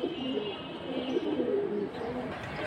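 Pigeons of high-flying fancy breeds coo softly in low, rolling phrases, close by and continuous over a faint background hum.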